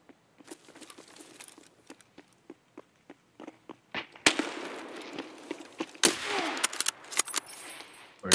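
Gunfire in the video game Escape From Tarkov: a string of sharp, spaced distant shots, then a louder burst of rapid close firing amid rustling movement.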